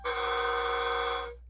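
A steady electronic horn blast from a G scale model train sound decoder, sustained for over a second before cutting off, loud and close, slightly muffled by foam.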